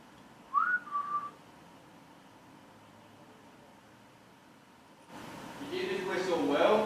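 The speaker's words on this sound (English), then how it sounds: "You did this whistle well." A short whistled tone rising then holding, heard once near the start inside a funeral parlour, followed by quiet hiss and then a louder stretch of chatter and whistling sounds.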